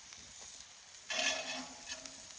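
Steak searing on a grill at a camp cookout, a soft steady hiss that swells into a brighter, louder sizzle halfway through, close and brief with no talk.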